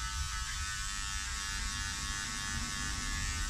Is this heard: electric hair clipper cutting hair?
yes